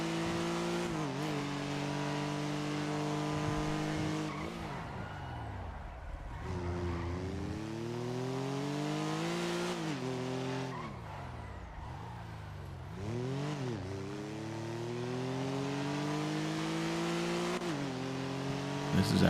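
A sports car races through GTA V, its engine roaring loud and close through repeated rising gear shifts and revs, with tire screeches between bursts of acceleration.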